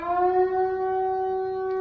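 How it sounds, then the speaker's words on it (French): A fire brigade siren holds a steady, loud harmonic tone for about two seconds, sounding close and continuous with no voices. "Sirène des pompiers."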